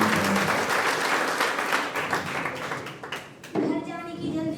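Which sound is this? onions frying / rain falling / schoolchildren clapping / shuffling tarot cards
schoolchildren clapping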